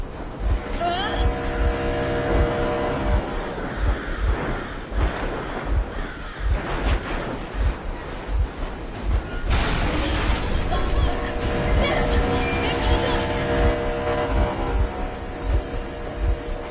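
A vehicle engine runs in the video game Metro Exodus with a steady, rhythmic low chugging that continues throughout under other in-game sounds.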